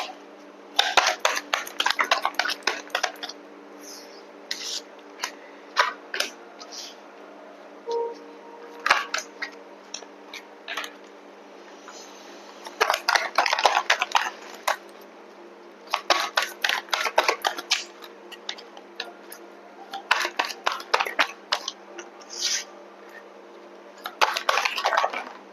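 Oracle cards shuffled by hand in bursts of crisp riffling and flicking, a few seconds each, separated by short pauses, close and clear with no talk.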